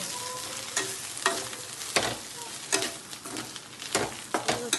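A spatula stirs an ivy gourd stir-fry in a pan, giving sharp scraping strokes about once a second over a soft, continuous frying sizzle, close and with no talking.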